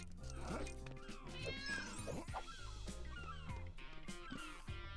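Cat meowing in the Lego City Undercover video game, several drawn-out meows and mews in a row over a steady backdrop of game music, fairly close and clear.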